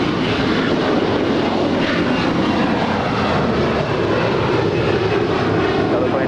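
A Lufthansa group airliner at LAX roars steadily with a loud, continuous broadband jet rumble, sustained throughout without a break.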